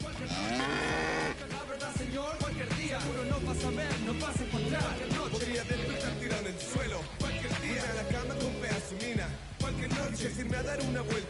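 Cow mooing sound effect in the MLB The Show baseball video game, several drawn-out moos in close succession, loud and near, with faint talk mixed underneath.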